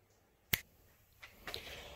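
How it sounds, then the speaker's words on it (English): A single sharp, close finger snap sounds once in a quiet space, followed by a couple of fainter clicks and soft handling noises. "I'm going to try the old finger snap trick"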